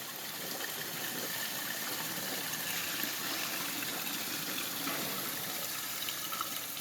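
A toilet flushing into a clogged bowl, water rushing and rising in a steady, even stream that runs continuously at moderate level without pauses.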